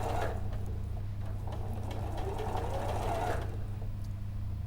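A sewing machine runs steadily while stitching the front seam of a garment leg, a soft continuous mechanical whir that stays fairly quiet and even throughout, with no talking.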